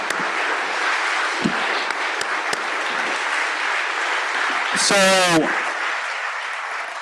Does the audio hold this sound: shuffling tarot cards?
no